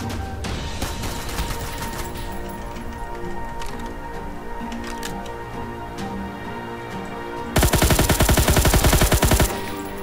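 Rapid automatic gunfire in Roblox, a dense burst of loud shots near the end over a steady game soundtrack; players chatter faintly earlier.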